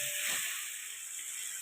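Chopped tomatoes frying in a pan for a vegetarian okra dish, a steady soft hiss and sizzle that holds evenly throughout, close by, with no talking.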